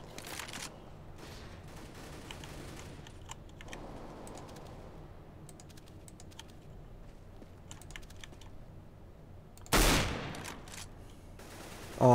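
Counter-Strike: Global Offensive gunfire comes as one sharp, loud burst near the end. Before it, close computer-keyboard clicking and scattered faint in-game shots run throughout.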